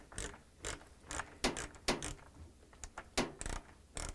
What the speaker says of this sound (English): I'm going to use the this ratchet with the Phillips bead in it, and we're going to tighten that